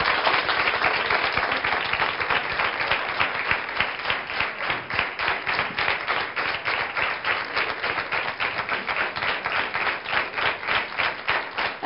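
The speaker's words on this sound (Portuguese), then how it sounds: "Uma salva de palmas para o nosso convidado." A television studio audience gives a guest, Dr. Paulo Casella, a sustained round of clapping on a Portuguese talk show, dense and even at first, then thinning into more distinct, rhythmic claps.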